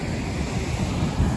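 Ocean surf rolls onto a beach at a camping spot, a steady low rumbling wash with wind noise buffeting the microphone.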